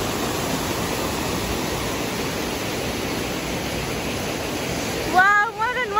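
A mountain stream in Achham rushing over rocks, a loud steady broadband roar close by; near the end a voice cuts in over the water.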